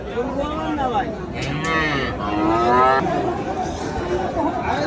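Small and medium cattle at a rural livestock market low out in long, drawn moos, several calls overlapping close by, over a steady murmur of crowd chatter and voices.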